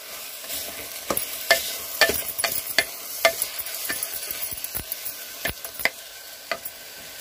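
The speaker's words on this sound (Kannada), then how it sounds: "ಈಗ ಅಕ್ಕಿಯನ್ನು ಹಾಕಿದ್ದೀನಿ. ಇದನ್ನು ಸ್ವಲ್ಪ ಹೊತ್ತು ಹುರ್ಕೊಳ್ಳೋಣ." Washed, drained rice is stirred and dry-roasted in a hot pan for aloo methi pulao, giving a soft continuous sizzle broken by irregular scraping strokes of the spoon, close and without speech.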